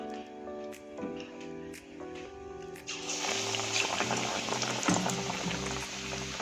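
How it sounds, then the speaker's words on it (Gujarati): Bread pakoda pieces, cut into three, fry in hot oil, and a dense, steady bubbling sizzle swells up suddenly halfway through and keeps going close and loud. "હવે આપણે જે આ રીતે બ્રેડને કટિંગ કરીને 3 ભાગમાં જે કર્યા હતા એને આપણે ફ્રાય કરી લઈશું."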